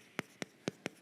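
Four separate marker or chalk strokes on a board during a church meeting, each a short crisp scrape spaced evenly apart, close and clear with no talking over them.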